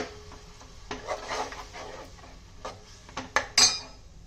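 A utensil scrapes and clinks in a pan while chole curry with tomato puree and turmeric is stirred, with soft rubbing strokes and a few sharper metallic knocks toward the end.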